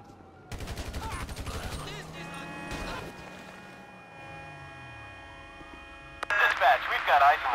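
Gunfire in Grand Theft Auto V during a police shootout: a rapid burst of shots early on, a second burst, then a steady electronic hum under radio-style speech and a closing crackle of noise.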